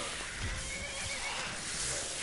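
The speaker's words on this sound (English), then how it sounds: "Leave my horse alone!" A horse in a video game lets out a whinnying neigh amid steady game ambience, faint and slightly muffled in the mix.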